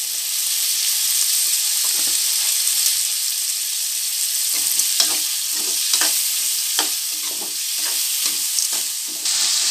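Tomatoes sizzle steadily in a hot pan while being cooked down for an okra curry, with scraping stirring strokes and clicks from a spatula repeating throughout at close range.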